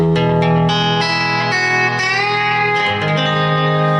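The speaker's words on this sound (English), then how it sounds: "Now, when I pick that little string" Sustained lap steel guitar notes with bright harmonics, a single string picked in a steady sequence with pitch shifts, clear and alone with no talking.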